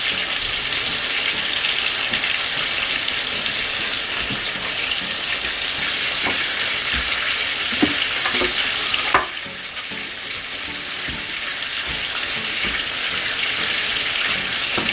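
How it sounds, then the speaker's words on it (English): Chicken frying in a pot, a steady loud sizzle with occasional clinks of stirring; the sizzle briefly drops before resuming, no talking. "while the chicken is frying"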